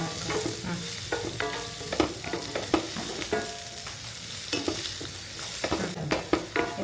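Onion and capsicum fry in oil in a kadai with a bright, continuous sizzle, while a spoon stirs and scrapes through them in quick, irregular strokes, close up and without talking.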